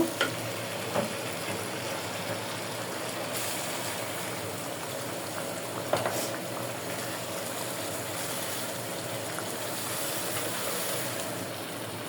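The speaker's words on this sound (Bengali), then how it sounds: "আমি একটু সামান্য জল দিয়ে দেব" A masala of nuts and poppy seeds for a Bengali river rohu fish kalia sizzles continuously after a splash of water is added, a dense, even hiss with occasional faint knocks of a spoon and no voices.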